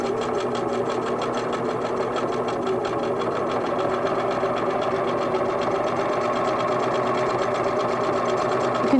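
Singer sewing machine stitching appliqué onto quilting fabric, a close, steady, fast needle chatter running continuously without pause.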